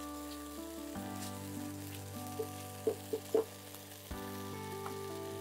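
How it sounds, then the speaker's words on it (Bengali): Onions frying in a pan, a soft sizzle under a steady electrical hum, with several quick clicks or pops near the middle. "পেঁয়াজটা বোধহয় ভাজা হয়ে গেছে না?"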